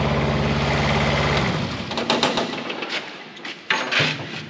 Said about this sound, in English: So I'm going to turn the engine off here for a minute.